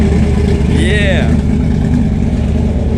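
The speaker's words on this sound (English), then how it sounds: "You can hear it lean popping already, so it needs a tune-up for sure." A 1955 Chevy Bel Air engine with a Holley carburetor, running lean and needing a tune-up, holds a loud steady idle close by, with uneven popping in its low rumble and a brief squeal partway through.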